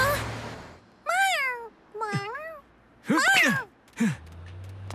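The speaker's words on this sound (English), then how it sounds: "There's a cat on the train crossing" A cartoon kitten at a train crossing gives a series of distinct, pitched meows with gliding tones, four or five cries separated by short pauses, close and clear.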